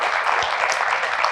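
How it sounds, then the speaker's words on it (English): Audience applause in a television studio talk show, a brief dense wash of clapping, even and fairly loud with no voices over it. "round of applause for that"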